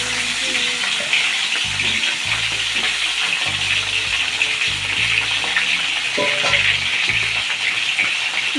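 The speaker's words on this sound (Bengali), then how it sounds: "এবার কড়াতে তেল দিয়েছি গরম হওয়ার জন্য। এবার এইগুলোকে আমি ভেজে নেব।" Pointed gourd (potol) pieces fry in hot oil in a wok, giving a loud, continuous crackling sizzle with faint low clinks, and no one speaking.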